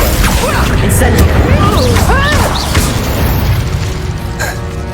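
A loud burst of spell impacts and crashing booms in a Hogwarts Legacy fight with poachers, thick and continuous over battle noise, with a voice calling out spells and rising whooshing tones.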